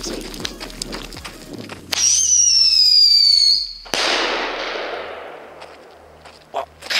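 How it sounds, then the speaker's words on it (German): A Thunder Kong Whistling firework goes off outdoors: a few crackles, then a loud, falling whistle for about two seconds, cut off by a sharp bang and a long fading rumble, with small pops afterward. "Okay Leute, jetzt der Thunder Kong Whistling."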